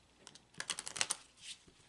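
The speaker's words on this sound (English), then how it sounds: "I'm going to take a few moments to shuffle the deck" A deck of gypsy oracle cards being shuffled on a table gives a quick run of soft papery clicks and riffles, rising into a dense burst then tapering, faint and close, with no talk.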